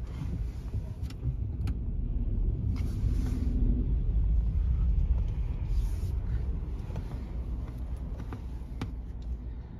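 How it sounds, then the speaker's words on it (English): Cars and other road traffic rumble past on a main route into Ballymoney town centre, a continuous low roar swelling and fading as vehicles pass at moderate distance. "it's still one of the main routes into the town centre itself, which is why there's so much traffic here."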